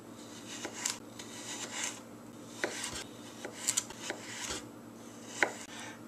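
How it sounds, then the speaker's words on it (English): A knife cuts a carrot into matchsticks on a board, producing a series of soft, irregular chopping taps spread through the passage at a modest level, with no voices. "And now we're going to cut those into matchsticks."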